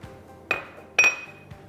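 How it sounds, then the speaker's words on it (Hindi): Eggs cracked against a glass bowl holding a sugar mixture, three sharp clinks spaced about half a second apart, the middle one loudest, in a quiet kitchen. "चीनी मिक्स हो जाए तो 2 अदद अंडे इसमें डालेंगे"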